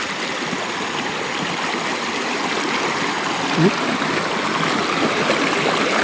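Water rushes and babbles continuously, a steady broad wash of a clean flowing river with no pauses.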